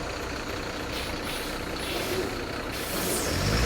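A lorry loaded with pigs sits in a midnight traffic jam, its engine rumbling under a hissy, broadband road din that swells louder toward the end.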